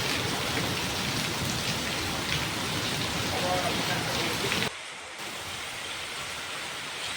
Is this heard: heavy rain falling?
yes